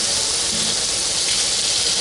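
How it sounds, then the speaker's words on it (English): Sausage and onion browning in a pan for a broccoli cauliflower casserole, giving a steady, even sizzle and hiss that holds close and constant throughout. "while this sausage is browning up"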